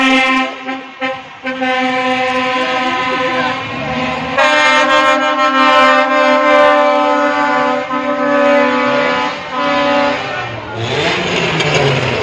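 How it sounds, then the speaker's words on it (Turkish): Loud, sustained truck horn blasts from a wedding convoy layered over one another, blaring almost continuously with a brief pause early on, like heavy vehicles honking together nearby. "düğün konvoyuna katılan tır sürücüleri korna çalarak mahalleye ilerledi"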